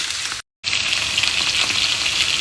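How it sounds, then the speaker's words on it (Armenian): Steamed potatoes fry in a dry pan over maximum heat, giving a loud, dense, steady sizzle with no talk, broken only by a short gap of silence early on. "Կրակը մաքսիմալ բարձր ենք անում, որպեսզի շոգեխաշված կարտոֆիլը տապակվի"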